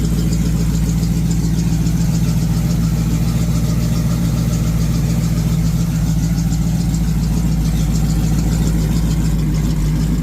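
A 1986 Ford Mustang GT Foxbody V8 idles steadily at close range on its first start after work, a loud continuous rumble with a faint ticking running through it.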